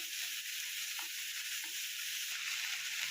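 Chopped ivy gourd fries in a pan while being stirred. A steady, hissing sizzle runs throughout, with soft scraping knocks from the stirring every so often, close and even, and no voices.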